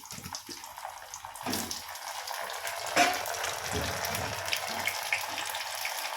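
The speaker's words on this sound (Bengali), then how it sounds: "এবার কড়াইয়ে তেলটা হয়ে গেছে, এবার একটা একটা করে পটলগুলো ভেজে তুলব।" Pointed gourd (parwal) pieces frying in hot oil in a wok, giving a steady, close hiss and sizzle that swells slightly partway through, with no talking.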